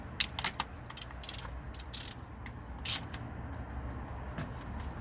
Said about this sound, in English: we're using a 16mm socket to undo them